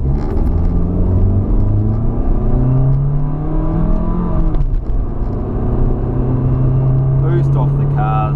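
A Toyota Corolla with a 1.6 engine accelerates hard, its loud, close engine note rising and falling through the gears, with a voice briefly heard near the end.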